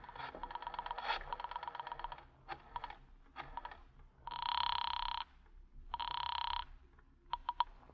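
A telephone rings in an indoor scene, a few long electronic ring bursts separated by pauses, with light clicking like typing before them; fairly quiet and with no talking.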